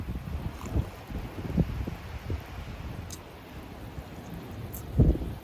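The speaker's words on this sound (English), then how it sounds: "here comes that wind." Wind gusting outdoors near water at a vanlife campsite, a steady rushing bed with low buffeting surges on the microphone, strongest in a loud gust near the end.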